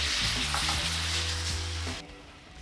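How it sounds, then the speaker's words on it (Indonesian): Sauce hitting a hot pan of seafood for a chili-crab-style platter, a loud steady sizzle with stirring scrapes that cuts off sharply near the end. "sekarang kita akan tuang sausnya"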